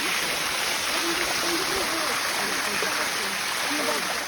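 The Sticky Waterfall near Chiang Mai gives a steady, dense rush of flowing stream water heard close by, with a person talking over it throughout.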